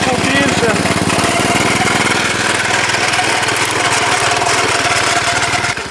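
A walk-behind two-wheel tractor fitted with a mower attachment runs steadily at close range, its loud, continuous engine drone with a rattling mechanical buzz holding for the whole stretch before cutting off abruptly at the end.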